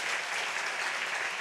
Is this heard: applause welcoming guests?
yes